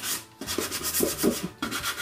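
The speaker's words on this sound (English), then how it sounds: "continue sanding off edges and sanding off bits of paint" Sandpaper rubs back and forth on painted wood in quick, steady strokes, sanding paint off edges of an old wall cabinet, a dry scratchy rasp close by with brief pauses between passes.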